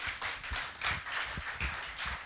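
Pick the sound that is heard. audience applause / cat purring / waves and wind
audience applause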